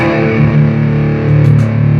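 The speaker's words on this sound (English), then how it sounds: "which is a distorted and clean sound" A heavily distorted electric guitar through a BOSS GT-8 multi-effects unit rings out in a sustained, buzzing chord, loud and dense throughout, with no voices.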